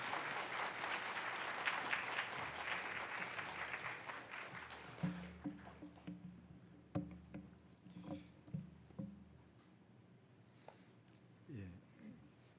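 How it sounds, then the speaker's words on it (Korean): A church congregation at a Sunday worship service claps to welcome a visiting professor to preach, with a dense, loud wash of applause that fades after about five seconds into scattered claps and quieter sounds in the room. "우리 박수로 맞이하도록 하겠습니다"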